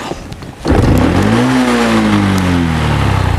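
A motorcycle engine catches after a brief rattling start, then revs up loud and close and holds a rough, steady roar for a few seconds. No voices are heard.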